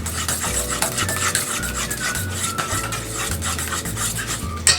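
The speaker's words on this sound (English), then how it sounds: "Mix your spices up just a little bit." Spices for meatloaf are mixed in a bowl, a loud, close, continuous rasping and rubbing with rhythmic scraping strokes over a low hum.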